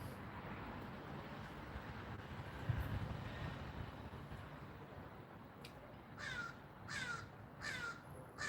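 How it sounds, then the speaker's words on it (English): A crow caws four times in a quick series near the end, fairly clear and close, over a steady outdoor background hiss and low rumble. "Hear that bird?"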